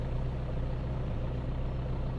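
An ATV quad bike engine idling: a steady low, even throb with a constant rumble, close and alone, no talk.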